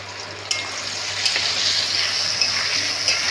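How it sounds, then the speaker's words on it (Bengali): Fish frying in hot oil, Bengali style, crackles in a loud, continuous sizzle, with occasional sharp pops and stirring noises close by. "লাল লাল করে ভেজে নেব"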